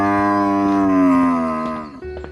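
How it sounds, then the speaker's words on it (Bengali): A bull lows in one long, deep, drawn-out moo that holds strong then tapers off, close and loud, with nothing else heard alongside it. "কিছুক্ষণ পর ভোলা ষাঁড় গিয়ে পৌঁছায় এক বাড়ির সামনে।"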